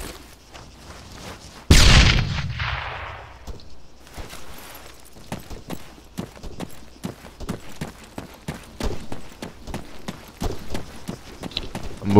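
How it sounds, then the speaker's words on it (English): In the military shooter Arma III, a close grenade explosion booms out, followed by a long string of sharp gunshots and rapid bursts of gunfire. "Grenade out."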